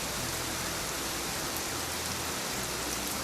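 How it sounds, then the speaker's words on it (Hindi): Heavy rain pours steadily in a dense, continuous hiss, with no pauses and no other sounds. "बारिश इतनी तेज थी कि उनके पास अंदर जाने के सिवा कोई चारा नहीं था"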